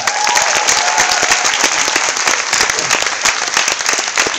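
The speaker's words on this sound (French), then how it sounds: "Et on peut applaudir." An audience at a Gad Elmaleh event at La Défense applauds steadily throughout, dense clapping from a sizeable crowd with no pauses.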